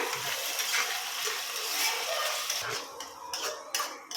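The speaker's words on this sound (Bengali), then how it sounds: "ভালো করে নাড়তে থাকবো এরকম করে, যেন তলাতে না লেগে যায়" Pasta sauce with tomato sauce being stirred in a pan over medium-low heat, giving continuous soft scraping and clinking of a utensil against the pan, fairly close and steady with no talking.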